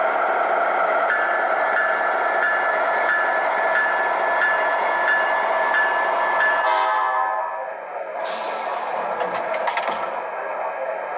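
An Atlas O gauge model of an Amtrak 50th anniversary train runs with onboard sound effects: a steady rolling rumble and horn-like tones, shifting after a few seconds into quieter, thinner rail sounds with a brief high electronic tone.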